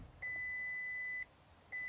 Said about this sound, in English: Here's the usual symphony of beeps when I power this thing on